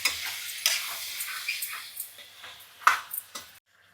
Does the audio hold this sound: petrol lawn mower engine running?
no